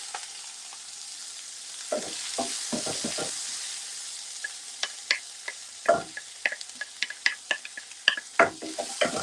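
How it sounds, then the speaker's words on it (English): Shallot, garlic, ginger and green chili sauté in a hot pan during a live cooking demo, a soft steady sizzle broken by scraping stirs early on, then a run of sharp spattering pops and crackles. "So saute it for about 2 to 3 minutes until the shallot and garlic, ginger start turning golden brown"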